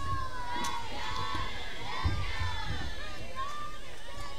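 Crowd noise fills a packed stadium at a women's college softball game between Clemson and Charlotte, a steady murmur with scattered shouts and children's voices rising briefly near the middle, running under continuous announcer talk.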